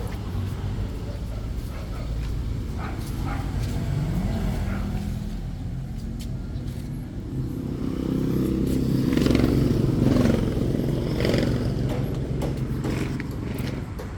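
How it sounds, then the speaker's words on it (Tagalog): A Mazda R2 diesel engine in a long top-load vehicle runs with a continuous low rumbling idle. It swells slightly louder midway, with faint clatter on top and a little background noise. "R2 Mazda diesel engine yan boss."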